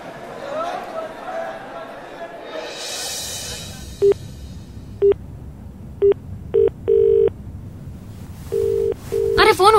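A phone rings in short repeated electronic bursts, left unanswered, over a windy, wave-like background wash.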